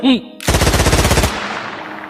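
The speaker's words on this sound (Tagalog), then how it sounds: "Tinadtad ng bala ng baril ni Caricto ang katawan ni Apolonio" Rapid machine gun burst in a Tagalog radio-style drama, a loud close volley of evenly spaced shots lasting under a second, preceded by a short voice and followed by a fading echoing tail.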